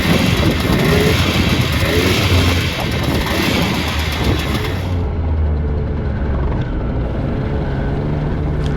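Inside a tiny Peel Trident two-seater microcar on the move, a loud, harsh, buzzing engine drone fills the cabin continuously with wind and road noise, staying close and constant throughout.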